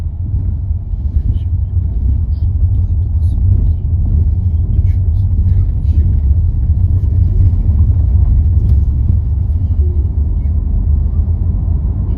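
Cars approach along a road near a new bridge being built beside an old one, on a road trip from Kotelnich to Ukhta in Russia: a steady, loud low rumble of tyres and engines continues throughout, with speech in the background.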